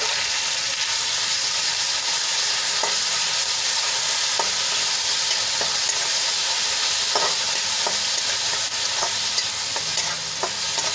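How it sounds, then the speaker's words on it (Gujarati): Grated onion sizzles and fries in hot oil with garlic and green chillies, a steady broadband hiss running throughout with occasional soft clicks of stirring. "લસણ અને મરચા સરસ સંતળાઈ ગયું છે, તો એમાં આપણે 2 ડુંગળીની મેં ખમણી લઈ લીધી છે, એ એડ કરી લઈશું."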